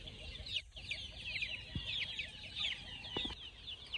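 Young chicks on a farm cheep and cluck in a busy, continuous chorus of high peeps, fairly close but soft, with a few faint knocks in the background.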